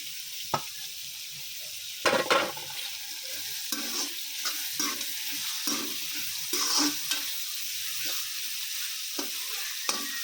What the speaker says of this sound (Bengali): ফ্রাইড রাইস রান্না হচ্ছে